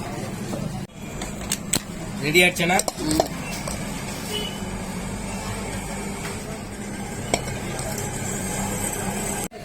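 Sweet corn gets stirred and mixed with butter, pepper and masala in a cup or bowl, with scraping spoon clinks and a few sharp knocks over a steady background hum of a busy supermarket.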